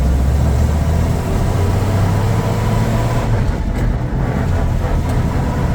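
A 1965 Plymouth Valiant on a test drive with a worn, noisy manual transmission, loud continuous drivetrain rumble and engine drone with road noise, steady and close from inside the car.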